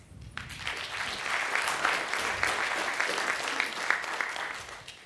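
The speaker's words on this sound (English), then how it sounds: "So please applaud the speakers." An audience at a networking conference breaks into applause for the speakers, a dense, continuous wash of many hands clapping that swells, holds steady for several seconds, then begins to thin out.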